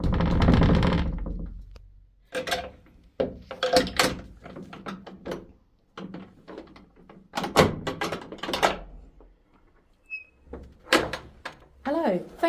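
Heavy thuds and rattling knocks from the door of St Mary's church at Layer Marney being unlocked and opened, a loud low bang followed by scattered clunks, with people talking throughout.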